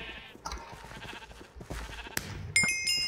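Sheep bleats from the video game Sheep Quest, a couple of short bleating calls near and fairly loud, followed by a bright chiming game jingle near the end.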